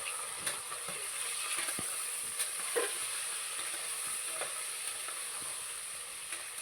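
Potatoes and green chillies sizzling steadily in hot oil for a pork curry, a close continuous frying hiss with occasional soft crackles and stirring clicks, no voices.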